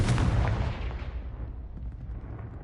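A Confringo blasting spell in Hogwarts Legacy goes off as one loud booming burst that rolls away and fades over a couple of seconds.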